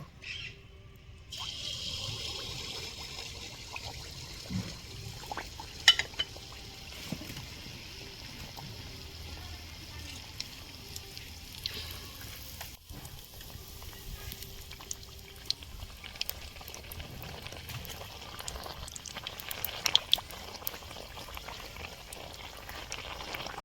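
Pitha deep-fries in half a litre of hot white oil, giving a soft, steady bubbling with scattered small pops and clicks, fairly quiet and without talk.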